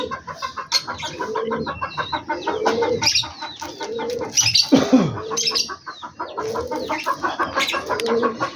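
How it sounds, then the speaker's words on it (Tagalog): Backyard pet chickens cluck and call repeatedly up close, overlapping bursts of fowl voices in an open farm setting, with pigeons and other birds also kept nearby. "ayan dito, ayan, ang alaga natin mga manok ayan"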